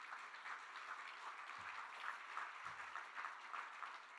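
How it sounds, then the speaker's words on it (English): A room of people at a community celebration event gives a round of applause, heard as faint, continuous clapping that seems distant and steady for a few seconds. "So let's just have a round of applause for them."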